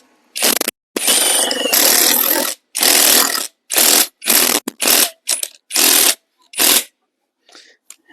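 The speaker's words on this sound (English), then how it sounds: "and then you drill it down" A power drill drives a heavy duty tent stake into the ground in repeated bursts, one long run followed by several shorter whirring pulses with brief pauses between them, loud and close with no talk.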